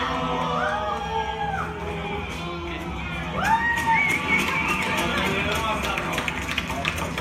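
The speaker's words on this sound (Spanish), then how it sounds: "La gente aplaude, acaban de matar y la gente aplaude porque quieren eso" Crowd cheering and shouting at a Roman gladiator show staged in a Sant Cugat cultural hall, with whoops and excited children's voices rising midway over a steady background roar of the audience.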